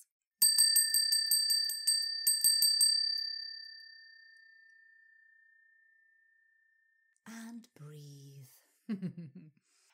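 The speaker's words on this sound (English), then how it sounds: "please ring your bell. Here it comes." A bright bicycle-style bell rings in a quick burst of repeated dings, then one long tone slowly decays into silence before a person speaks softly.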